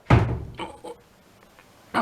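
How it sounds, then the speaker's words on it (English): A door caught by the wind swings shut with a loud thump near the start, followed by a few faint rattles and knocks, then another sharp knock at the end; the setting is a workshop with a Snapper rear engine riding mower. "here comes the door closed. The wind just caught my door."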